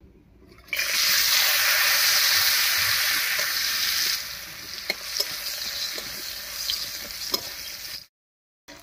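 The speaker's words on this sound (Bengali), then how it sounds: "এবারে কড়াইতে তেল দিয়ে কয়েকটা বড়ি ভেজে নেব।" Lentil dumplings (bori), mixed with salt and turmeric and a splash of water, frying in oil in a wok: a loud, steady sizzle that starts abruptly, eases partway through with a few sharp pops, then cuts off.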